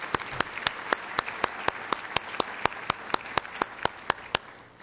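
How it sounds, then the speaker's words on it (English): Conference audience in a hotel ballroom claps for the event organizers, a steady crowd applause with sharp, evenly spaced claps standing out near the microphone, tapering off at the end. "let's give them a round of applause"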